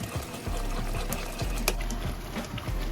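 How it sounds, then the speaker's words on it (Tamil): Hot water poured into semolina roasting in a pan for rava kesari, a steady watery rush and bubbling that runs close and continuous, with a few sharper splashes and clinks. "அதனால் நம்ம ரவை வேக வேக அப்படியே ஹாட் வாட்டர் ஊற்றி ஊற்றி வேக வச்சிடலாம்"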